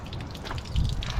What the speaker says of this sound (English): We're siphoning the water out as much as this will siphon.